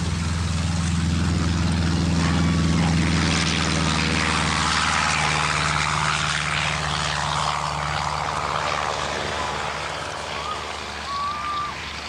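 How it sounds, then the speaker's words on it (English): A Cessna light plane's engine drones steadily as it prepares for its takeoff run, a loud, continuous propeller hum that holds throughout and fades slightly near the end. "the light plane began to prepare for"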